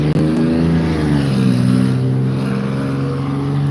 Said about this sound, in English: people having way too loud damn cars